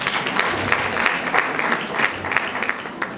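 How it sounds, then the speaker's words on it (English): A graduation ceremony audience breaks into sustained, dense applause, many hands clapping together at a steady loud level with small swells throughout. "Let's give them a hand of applause."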